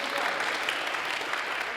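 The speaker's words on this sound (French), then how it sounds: "Super, c'est bien, on peut les applaudir." A group in a French eloquence workshop applauds students from a priority-education school; steady, dense clapping, with some voices mixed in.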